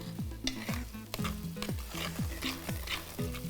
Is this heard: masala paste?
yes